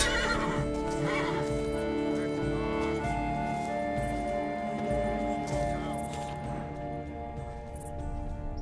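A horse in the Witcher 3 video game neighs and whinnies over a dense layer of game music, with hoof clip-clops mixed in and the sound staying loud and steady throughout.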